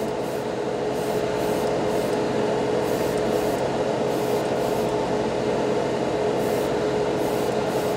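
Airbrush spraying Hobby Mio paint, a steady close hiss that runs unbroken throughout, with faint rhythmic pulsing over a low mechanical hum.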